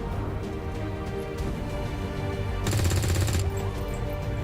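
Soldiers firing weapons in the strategy game Long War 2, with repeated gunshots and a denser burst of rapid fire in the middle, heard over a constant background game soundtrack.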